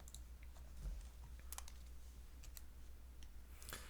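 Quiet computer keyboard typing during a math lecture, a few scattered faint key clicks over a low steady hum, no talking.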